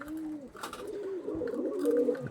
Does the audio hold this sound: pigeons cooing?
yes